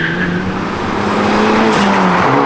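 A Hyundai i30N with a modified exhaust and 3-inch downpipe revs hard, its engine note climbing and shifting as it pulls away loudly and close, with a rasping exhaust roar throughout.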